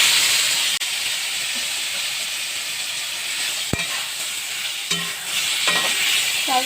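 Crushed elephant apple frying in hot oil with dried chillies makes a loud, continuous sizzling hiss, broken by a sharp click and a few soft stirring scrapes near the end.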